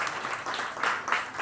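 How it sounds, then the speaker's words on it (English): A hall audience at a migrant cultural show applauds the organizing team on stage with a short, close wash of clapping. "Round of applause to the organizing team, whom you see on stage"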